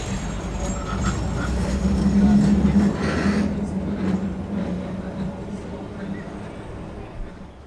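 A heritage tram on the Auckland Dockline rumbles along the rails with a steady, loud rolling drone that swells and then fades away, with voices faintly mixed in.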